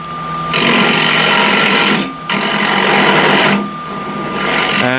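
A big square end scraper cuts into a wooden bowl spinning on a lathe, a loud, continuous rasping whir in two long bursts with a short break between them, easing off near the end.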